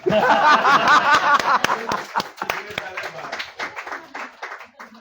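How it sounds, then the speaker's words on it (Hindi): Audience at a Hindi poetry gathering breaks into clapping and chuckles after a verse, claps mixed with laughter and voices at first, then thinning into scattered claps that fade. "इस पे तालियां होनी चाहिए।"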